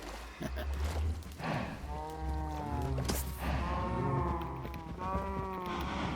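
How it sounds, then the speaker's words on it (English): Minecraft cows moo repeatedly, long drawn-out lowing calls one after another, close and loud over a low rumbling background. "Change the sound of the cows and it scares me a little bit."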